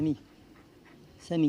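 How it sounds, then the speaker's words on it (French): A dog pants in short bursts, a quick breathy burst at the start and another at the end with a quiet gap between, close and fairly soft, with a person speaking nearby. "C'est un chien qui parle."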